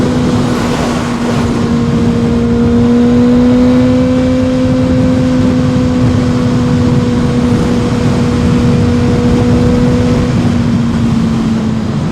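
A Kawasaki ZX-6R motorcycle engine drones while riding, a loud, steady sustained tone holding pitch with slight drift, mixed with wind rush, continuous for several seconds without speech.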